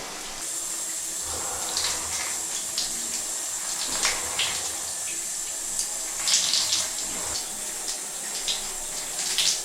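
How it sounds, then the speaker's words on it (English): Hot shower water runs in a steady hiss on a cold day of about 30 degrees outside, with occasional louder splashes and surges as someone moves under the spray. No talking. "This is great, the hot shower when it's like 30 degrees outside."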